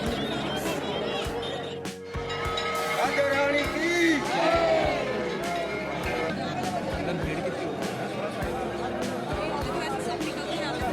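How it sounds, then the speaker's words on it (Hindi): Dense crowd chatter and hubbub fill the courtyard of the Radha Rani temple in Barsana near Vrindavan, a steady babble of many voices with occasional calls and shouts rising above it. "यहाँ पे राधा रानी के मंदिर में बहुत ज़्यादा भीड़ थी"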